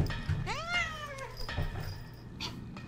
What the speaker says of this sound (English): Meow for the audience.